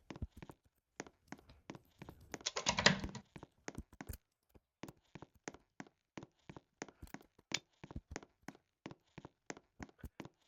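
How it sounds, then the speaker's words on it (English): A computer mouse clicked over and over during a game, sharp dry clicks in uneven bursts that come quickly, some close together in pairs, with a brief rustling scrape partway through. "I'm just clicking it extra to make sure it registers."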